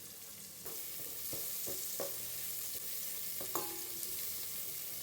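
Green chillies and onion sauté in a pan for vegetable biryani, making a quiet, steady sizzle broken by several sharp clinks of a spoon stirring against the pan.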